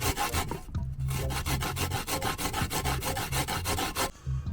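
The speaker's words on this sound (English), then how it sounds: "I prefer to use my grater as this gives a better flavor according to my experience over the years." Fresh coconut rasped on a hand grater for a Jamaican curry coconut crab, a rapid, steady series of scraping strokes close up, each stroke a rough grating rub with a brief pause near the start.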